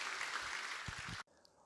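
Church congregation applauding during a Sunday worship service as a childbirth grant is presented; a steady wash of many hands clapping at moderate, distant level, then cutting off abruptly near the end.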